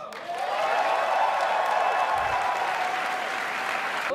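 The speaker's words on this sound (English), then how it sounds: "Please, a round of applause" Audience applause fills a panel hall at PSX 2015, a dense, steady wash of clapping from a large crowd that starts abruptly and holds loud and even throughout, with faint cheering mixed in.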